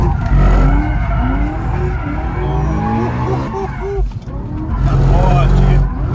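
Tires squealing and skidding on a 750 hp BMW E90 M3 driven hard on a mountain road, loud wavering screeches over a roaring engine, close and continuous for several seconds.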